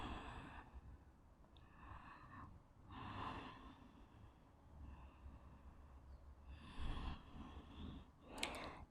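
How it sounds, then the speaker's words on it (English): Slow, deep breathing during yoga neck rolls, several long breaths in and out at an unhurried rhythm, close and soft with nothing else heard. "Breathing."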